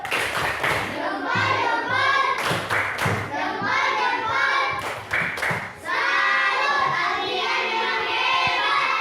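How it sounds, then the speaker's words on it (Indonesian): A classroom of pupils performs a rhythmic salute clap, with bursts of patterned clapping and voices chanting along throughout, loud and close. "Tepuk salut dulu, tepuk salut."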